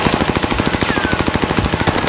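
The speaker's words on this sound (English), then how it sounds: "They're shooting in the tunnel actually" Sustained automatic gunfire in the WWII-era shooter Warzone Pacific, a steady rapid rattle of shots pounding close and loud for the full stretch with no pause.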